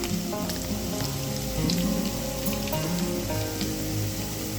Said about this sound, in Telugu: ఇప్పుడు ఇందులో మనం అరటికాయ ముక్కలు వేసుకోవాలి